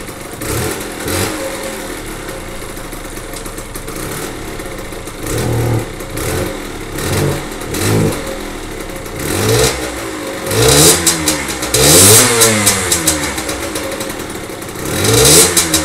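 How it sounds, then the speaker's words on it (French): A dirt bike fitted with a Yasuni ML cross exhaust, revving loudly and close: repeated throttle blips rising and falling over a rough idle, growing more aggressive toward the end, with no talk. "Je vais vous montrer quand même le bruit que ça fait."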